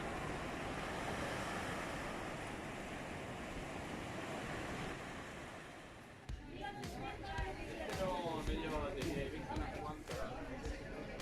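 Sea waves washing along a beach in Spain in summer, a steady rushing surf with wind, then nearby people chatting over the water as the roar continues.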